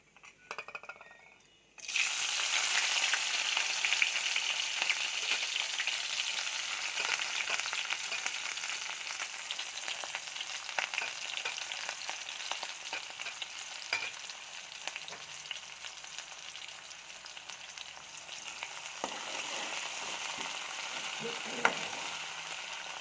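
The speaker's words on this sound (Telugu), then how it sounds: "ఇప్పుడే మగ్గుతుంది పచ్చిమిర్చి ఉల్లిగడ్డ మగ్గిన తర్వాత తర్వాత కరివేపాకు" Onions, green chilies and curry leaves sizzle steadily in an oiled pan for jowar pongal, a continuous close frying hiss that starts abruptly and runs on with faint stirring clinks.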